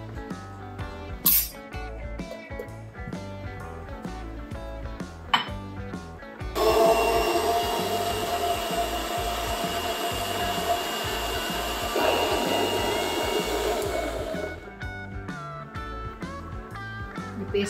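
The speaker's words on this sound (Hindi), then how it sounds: "अब इन्हें मिक्सी में डालकर पीस लेंगे" Rhythmic chopping clicks give way to an electric mixer grinder whirring loudly for several seconds as it grinds tomatoes into paste, before it stops and the chopping resumes.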